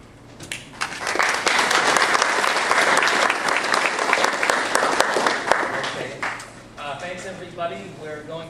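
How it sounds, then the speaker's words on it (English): An audience at a city council-at-large community forum in Lynn breaks into loud sustained clapping that swells quickly, holds for several seconds, then fades as a voice begins speaking. "if you could keep your applause down to a bare minimum, to nothing, actually"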